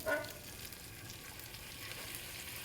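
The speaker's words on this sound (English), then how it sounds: "We're going to go ahead and add in our heavy cream" Heavy cream poured into garlic butter in a pan on low heat gives a faint, steady sizzle and simmer that runs quietly and evenly throughout, with no talking.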